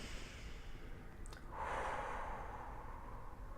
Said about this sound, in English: Big, big, big, big deep breath.